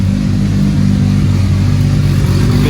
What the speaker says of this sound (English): So let's send it, see if she starts. Straight away. Much nicer. Sounds smooth. Exhaust sounds mint.